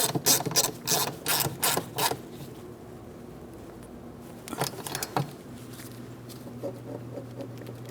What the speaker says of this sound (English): We'll start on the mounting nut and of course make sure it's nice and tight.